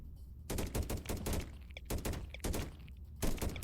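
Turrets firing in the swarm survival RTS game Deep Among the Swarm: rapid bursts of sharp, crackling gunfire in several rhythmic volleys separated by short pauses, fairly loud and with no talking.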